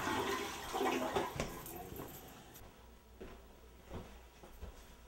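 A bathroom toilet flushes with a loud rushing gush of water that fades into gurgling and trickling refill, with a few knocks and thumps nearby.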